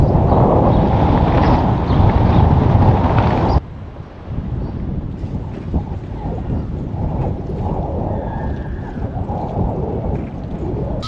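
Strong wind roars and buffets a microphone outdoors at a football ground, a steady heavy rumble that eases slightly partway through but keeps blustering throughout.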